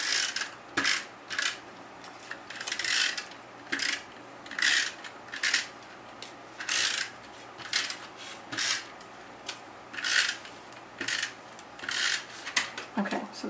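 Snail tape-runner adhesive rolled onto small card pieces for a holiday card, giving a series of short, close scratchy strokes in a steady rhythm, each lasting about half a second, with no one talking.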